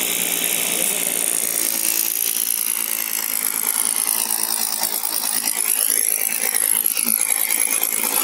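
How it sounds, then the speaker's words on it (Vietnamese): Drilling into a concrete roof and blowing away dust while fitting solar panel mounts, a steady, loud, continuous mechanical whir and rasp running throughout with no pauses. "Anh em đang tiến hành khoan và thổi bụi để bắt chân lờ lên."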